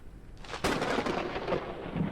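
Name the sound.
thunderstorm in the video game Forever Skies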